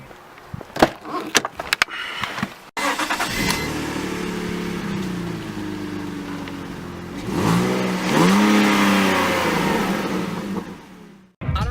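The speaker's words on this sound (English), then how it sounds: "my exhaust got a little bit louder" A BMW E46 with a freshly replaced fuel pump and a slightly louder exhaust clatters briefly, then settles into a steady, close idle. The engine revs up in a rising swell near the end and then drops back.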